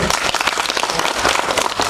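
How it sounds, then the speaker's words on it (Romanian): Enthusiastic applause from a crowd at a folk ensemble performance in Orbeni, Romania, dense and steady clapping filling the whole moment, close and loud. "Aplauze!"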